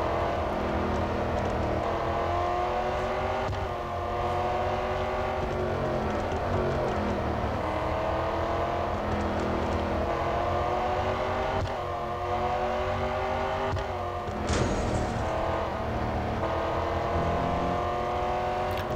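Jaguar F-Type SVR race car engine in Real Racing 3 on a national circuit, a loud continuous roar with steady revving and gear-change dips throughout, close and alone.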